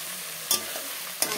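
Onions go into a hot pan for chicken curry, setting off a continuous crackling sizzle with two brief scraping stirs, close up and without voices.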